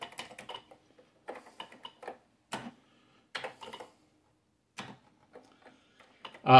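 Bursts of keystrokes on a computer keyboard while programming an Atari 8-bit computer, quick irregular clicks in short clusters separated by pauses, close and fairly quiet, with a louder thump at the very end.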